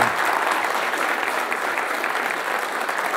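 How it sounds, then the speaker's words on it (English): An audience claps after an entrepreneurship lecture at a university, a steady, dense round of applause lasting several seconds with no talk over it. "Let's give Brian a round of applause."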